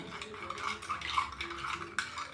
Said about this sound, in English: after settling I will continue to stir as you observe what is happening